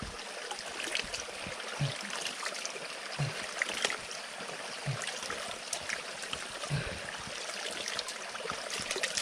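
A forest stream flows with a soft, steady trickle and gurgle, and faint knocks and splashes recur every couple of seconds against the constant babble.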